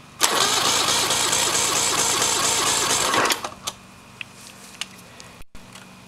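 A 2005 Mercury 200 XL carbureted saltwater outboard engine cranks on its starter for about three seconds during a compression test with a loud, rhythmic churning, then stops, leaving a few scattered clicks and handling noises.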